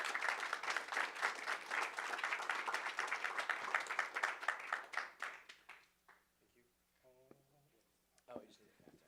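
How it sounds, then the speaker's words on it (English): Audience applause fills a conference hall at a quantum computing summit, a dense sustained clapping that lasts several seconds and then fades out, followed by quiet room sound and brief talk. "Let's get a round of applause, please."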